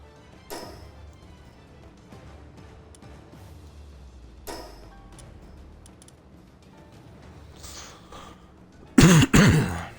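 A sick man coughs and clears his throat in a quiet room: a few soft, isolated throat sounds early on, then a loud, sharp burst of coughing near the end.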